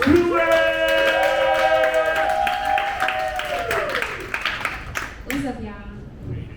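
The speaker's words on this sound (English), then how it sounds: "Put your hands together, clap it up, and show some love one more time" An audience claps for a performer at an open mic night, a scattered round of applause running under a sustained ringing tone and a voice, then fading out near the end.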